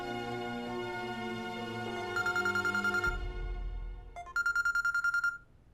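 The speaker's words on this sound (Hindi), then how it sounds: "हमें लगता है कि कांस्टेबल का फोन होगा" A phone rings in a bright repeating electronic trill, two bursts over a fading background music score in a TV drama scene.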